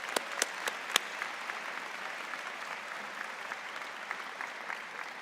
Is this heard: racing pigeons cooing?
no